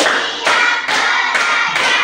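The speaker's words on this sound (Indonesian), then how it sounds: "Tepuk 1, tepuk 2, tepuk 3, tepuk 4, tepuk 5." A classroom of pupils claps in time to a counted routine, with four or five loud, evenly spaced group claps, each a sharp burst that decays before the next.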